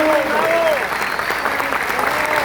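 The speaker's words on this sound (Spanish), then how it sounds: "Y para eso sí pido un fuerte aplauso" Crowd applauding strongly at a Spanish-language leadership talk in Colombia, dense sustained clapping that stays even and loud from start to finish, with a faint voice-like tone over it.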